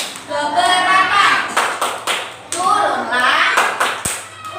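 Young children in a classroom clap along to a rhythmic rain song in Indonesian, bursts of clapping mixed with their chanting voices, lively and close.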